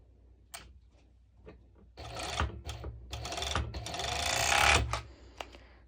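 A sewing machine stitches a swimsuit in close bursts, short needle taps first, then a long steady run that climbs in speed and loudness before stopping, with a few clicks after.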